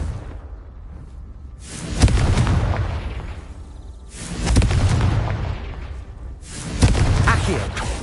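The Confringo fire spell in Hogwarts Legacy goes off as three booming explosions spaced a couple of seconds apart, each a loud burst that rumbles and fades, with speech from the game mixed in.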